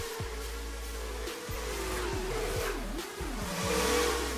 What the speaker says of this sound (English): we got engines revving